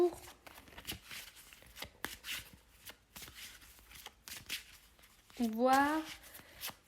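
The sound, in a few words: shuffling cards before drawing a card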